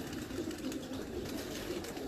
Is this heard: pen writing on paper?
no